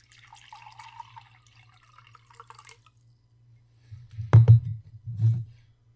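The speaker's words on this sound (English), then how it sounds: "and then pour a jug of water" Water poured from a jug into glasses: a faint trickle followed by a couple of louder splashing, gurgling bursts close by, over a low steady hum.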